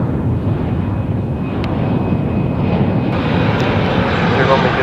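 A fixed-wing aircraft coming in to land on the runway at Farnborough, a steady loud engine roar with a faint whine, constant throughout without clear change.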